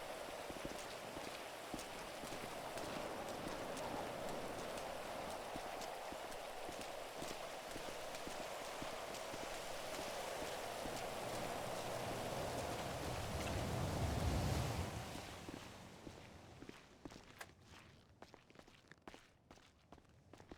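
Steady rain pours down in the NoPixel GTA RP game world, a dense hiss that holds for about fifteen seconds before fading off, with a few soft footstep-like taps near the end.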